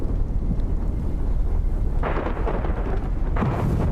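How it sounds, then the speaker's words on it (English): A phreatomagmatic volcanic explosion throwing ash jets, heard as a deep, continuous rumbling roar with bursts of louder crackling surges, no voices. "This is a maybe phreatomagmatic explosion."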